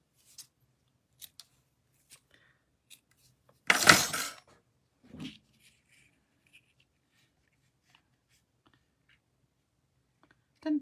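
A paper card being trimmed, a short loud burst of cutting near the middle followed by a smaller snip, with scattered faint clicks and handling noises around them in an otherwise quiet room.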